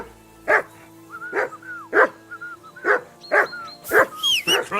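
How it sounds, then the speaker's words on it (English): A dog in Kingdom Come: Deliverance II barks repeatedly in a steady rhythm of sharp, loud barks, around eight in a row, with some whining between them. "Hey, call off that dog and then we can talk."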